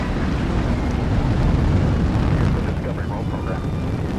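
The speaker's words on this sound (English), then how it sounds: "Booster ignition and liftoff of the Space Shuttle Discovery" Space Shuttle Discovery lifting off on two solid rocket boosters, a loud, continuous broadband roar that holds steady throughout with a narrator's voice over it.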